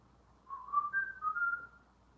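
Someone whistles a short melodic phrase, a few clear rising and falling notes, close and alone in a quiet room.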